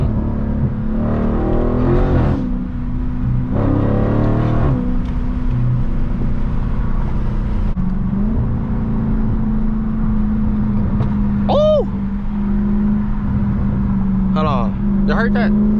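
A 2017 Dodge Charger 392 Scat Pack V8 rumbles steadily at close range with a low, continuous drone and a few mild rises in revs, while someone talks over it throughout.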